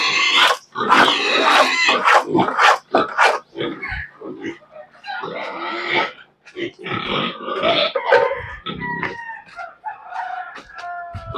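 A busy pen of fattening pigs grunting and squealing up close, with chickens clucking and a rooster crowing among them; no talk.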